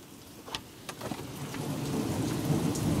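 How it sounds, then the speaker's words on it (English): A thunderstorm heard through an open door: heavy rain pours and splashes onto surfaces while a low roll of thunder builds, with a few sharp knocks near the start. "Dang, there's rain coming in here."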